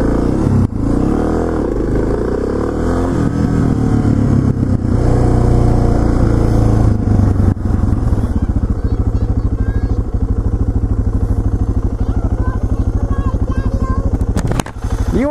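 A motorcycle engine rumbles close by, steady and loud, with revving surges near the end, heard under people talking.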